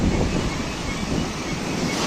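Sea waves crash on the Odesa shore in late November, a continuous loud roar of surf mixed with strong wind buffeting the microphone, with no speech heard.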